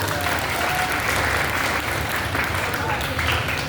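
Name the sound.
applause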